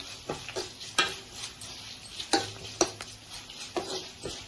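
Onions frying in a Telugu tempering for a raw-dal cucumber (dosakaya) curry, stirred with a utensil in the pan: soft steady sizzle under sharp intermittent scrapes and clinks of the spoon against metal, close up, no talk.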